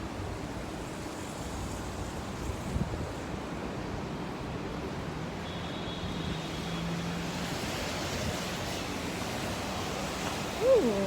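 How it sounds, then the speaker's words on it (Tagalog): Heavy rain and strong wind outside form a dense, continuous roaring wash of noise that stays steady and fairly loud throughout, with a few faint passing sounds and no talking. "Lumakas ang ulan."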